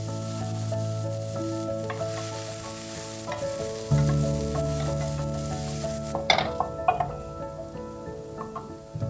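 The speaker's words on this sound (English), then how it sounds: "then sautéing them in olive oil over medium heat" Asparagus, green onions and peas sautéing in olive oil over medium heat, a steady sizzle under a low hum, then a run of spatula clinks and scrapes against the pan near the end.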